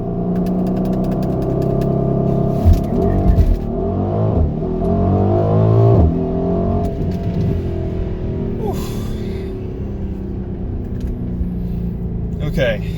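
A 2020 Mercedes GLC 63 S AMG Coupe pulls away from a standstill in automatic, its engine roaring loudly as it revs up through rising and falling gear changes, heard from inside the cabin, then settling into a steady drone.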